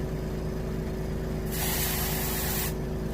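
An airbrush sprays paint onto a striped bass (rockfish) skin mount or reproduction in a single hissing burst of about a second, close up, over a steady low mechanical hum that runs throughout.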